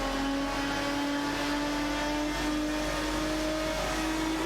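Race cars compete in a video game, including a Saleen S7 and a Maserati MC12 GT1, their engines droning at a sustained high pitch that climbs slowly as they run close together, loud and steady throughout.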